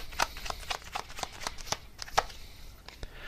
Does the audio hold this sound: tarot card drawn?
yes